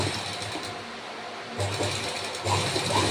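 A sewing machine stitches the neckline of a boat neck blouse, a steady mechanical whir with brief pauses and restarts, close and fairly loud, with no talking.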